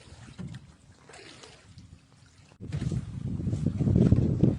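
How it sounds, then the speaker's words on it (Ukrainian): A fishing barge on the Dnipro reservoir near Zaporizhzhia, approached by a fisheries patrol boat, gives a low motor rumble with water wash, quieter at first and then swelling to a louder, steady churn. "Ще один баркас, до якого під'їхав Запорізький рибохоронний патруль на перевірку документів"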